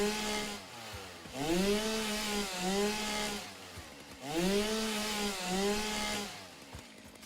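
Two sustained bursts from a chainsaw clearing vegetation in the video game Satisfactory, each a buzzing motor whine that swoops in pitch as it cuts, near and loud, with a short lull between them and no voices.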